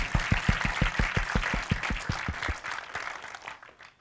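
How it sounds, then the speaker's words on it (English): Audience applause at a conference panel session on geopolitics and climate goals: a dense, steady burst of clapping with a rhythmic pulse, starting loud and gradually thinning out and fading over a few seconds. "You can clap."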